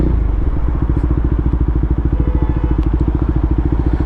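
A carburetted classic Honda CB750 Four motorcycle engine runs steadily nearby, a loud, even, rapid four-cylinder burble throbbing without pause.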